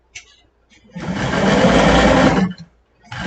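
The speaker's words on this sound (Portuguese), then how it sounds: "Vocês passam lá a costurinha ali de novo." A sewing machine runs in one steady loud burst of about a second and a half, stitching elastic onto a gola nó collar, with brief quiet handling noise before and after.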